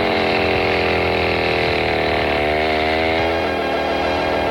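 A chainsaw buzzes steadily through a 1960s-style WFIL Philadelphia radio broadcast, its loud droning whine shifting pitch a couple of times as it revs, with no voices over it.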